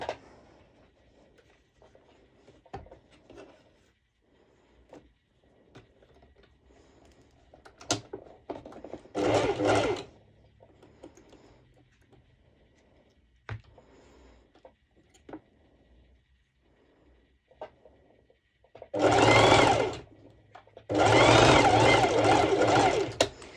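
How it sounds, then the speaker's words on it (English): A sewing machine runs a long straight stitch on stretch net fabric for a sporty top, whirring in three short bursts between stretches of quiet talking and small handling noises. "It's actually just a straight stitch with the highest stitch length"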